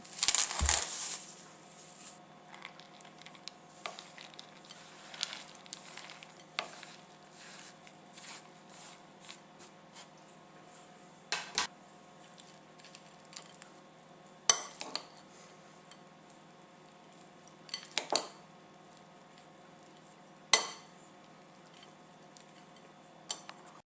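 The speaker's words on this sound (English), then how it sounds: "Add the almonds to the fruit mix and then stir thoroughly." Almonds stirred into a bowl of Christmas cake fruit mix, faint soft scraping under quiet room tone, punctuated by occasional sharp clinks of a spoon against the bowl spread across the length, close but low in level.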